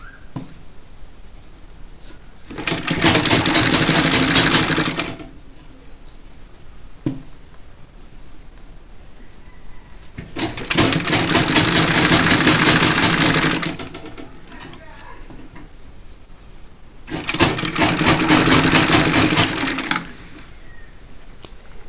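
Three steady runs of a sewing machine stitching a folded hem on a woman's trousers, each a few seconds long and fairly loud, with quieter gaps of room noise between them.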